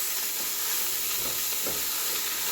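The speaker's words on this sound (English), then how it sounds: "I'm going to brown this meat for a little bit" Ground meat for chili browns in a hot pan, giving a steady, loud, close sizzle and hiss that runs unbroken throughout, with faint scraping now and then.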